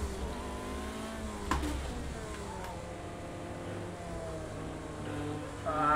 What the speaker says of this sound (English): I'm over revving the hell out of this car.